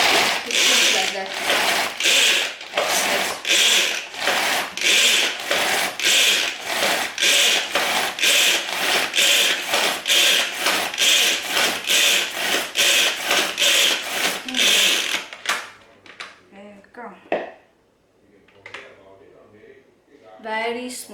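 A hand-pulled cord food chopper dices onions: about fifteen quick, evenly spaced whirring pulls sound up close, then stop, followed by quieter handling sounds.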